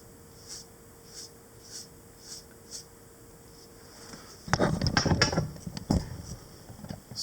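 A paintbrush strokes Conte crayon on paper, first as soft, faint periodic swishes, then a louder, denser burst of close scratchy brushing.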